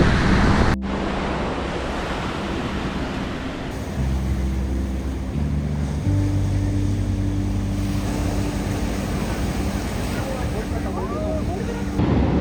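Ocean waves at Lulumahu Beach, Hawaii, a steady broadband roar of surf with some wind, continuous and fairly loud throughout.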